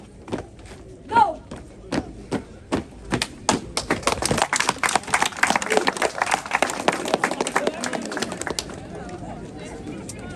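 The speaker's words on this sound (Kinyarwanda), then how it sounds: "nuko basoza nyine mu baha amashyi." Applause for a wedding party at the MG Sam and Diane wedding starts as a few spaced claps, then swells into dense, lively clapping from a crowd before fading, with voices mixed in.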